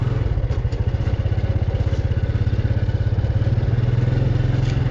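A motorcycle rides along at the Savannakhet teachers' college in Laos, its mid-pitched engine chugging in a steady, rapid rhythm, close and continuous with no voices.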